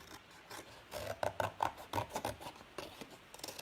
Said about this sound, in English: Now I'm going to cut this out using some scissors.